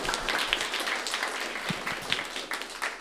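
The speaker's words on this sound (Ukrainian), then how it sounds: "Дайте Сергію трошки оплесків" A live comedy audience gives Sergiy a short round of applause, scattered claps of moderate loudness running for a few seconds over the room's background murmur.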